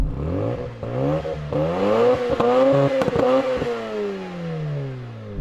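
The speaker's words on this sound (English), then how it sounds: "now let's have a listen to the Mazda." A Mazda 1.3-litre rotary engine revs repeatedly, rising and falling in pitch with crackles and pops, loud and near with no talking.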